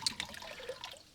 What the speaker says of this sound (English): I'm just siphoning a little bit of the water out